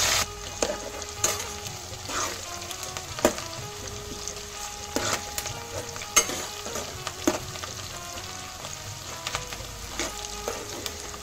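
Chopped onions fry with cumin seeds in oil for a mutton and potato curry, giving a steady soft sizzle broken by sharp clicks and scrapes of a spatula against the pan.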